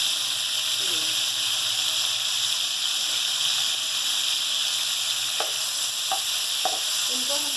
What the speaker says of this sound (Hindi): हम तेल के अंदर थोड़ी मिर्चें हम फ्राई करेंगे।